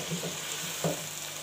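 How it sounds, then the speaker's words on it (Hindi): Chicken and vegetables with added spices being mixed in a pan, a brief soft sizzle with a couple of muffled stirring scrapes, close and quiet. "ऐड करने के बाद हम इसको अच्छी तरह से मिक्स कर लेंगे"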